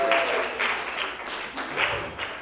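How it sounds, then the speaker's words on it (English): A comedy-club crowd at a charity stand-up show breaks into applause, a dense wash of clapping that swells in waves and stays loud throughout, with no clear voices over it. "Give yourselves a round of applause, actually, for coming out on a Tuesday"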